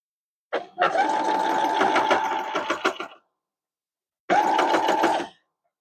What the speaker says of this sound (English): Okay, so let's sew it.